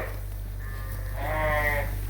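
A single sheep bleats nearby, a wavering, drawn-out call over a steady low farm hum, at breeding time as ewes and rams are sorted on the farm.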